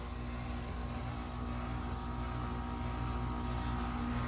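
A 2010 Payne air conditioner runs outdoors with a slight rattle, a steady low droning hum with a strong tonal buzz, continuous and unchanging throughout.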